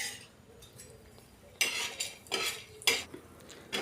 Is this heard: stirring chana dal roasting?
yes